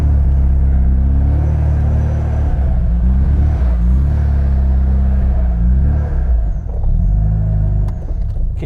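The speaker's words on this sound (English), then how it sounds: "You hear that supercharger?" A supercharged Mini Cooper engine drones close and loud with a steady low rumble, its pitch rising and falling gently as revs shift, a faint thin whine riding above.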